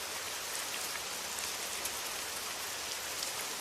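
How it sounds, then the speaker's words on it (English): Heavy, steady rain pours against the window of a night train travelling through Sweden, a dense, even hiss with no pauses or other sounds. "The rain does not relent, but neither does it worsen."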